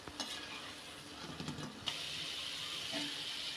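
Mango fritters fry over low heat in oil, giving a steady sizzling hiss with light stirring clatters near the start, close and fairly quiet.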